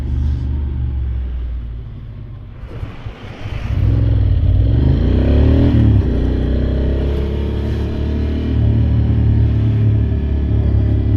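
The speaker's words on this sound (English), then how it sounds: "I forgot how good this bike sounds." A motorcycle engine running loud and close, with a deep rumbling drone that dips briefly, then swells as the revs climb and settle into a strong, steady roar.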